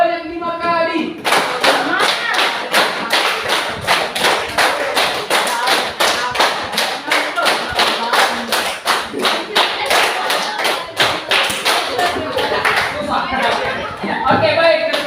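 A classroom group claps hands in a steady, rhythmic run of many sharp, close claps, with children's voices and some talk mixed in, ending in a looser scatter of taps.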